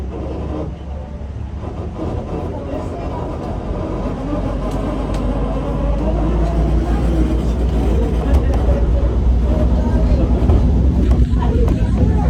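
A Hawaiian Railway Society passenger train gets under way, its low rumble and rolling noise building gradually and growing louder, while passengers chatter in the background throughout.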